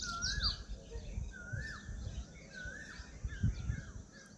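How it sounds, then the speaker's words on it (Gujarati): Several birds call on a quiet rooftop terrace in the afternoon, repeated rising and falling chirps and whistles coming at a moderate distance over a low background rumble, with no talk. "અવાજ આવે પક્ષીઓનો એટલું શાંત વાતાવરણ અહીંયા"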